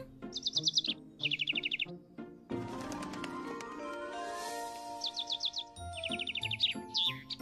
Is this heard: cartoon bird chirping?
yes